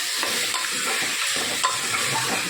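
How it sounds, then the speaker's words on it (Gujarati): Food being stirred and mixed in a hot pan, a continuous close sizzle with soft scraping and shuffling from the spoon throughout. "મિક્સ કરી લઈએ."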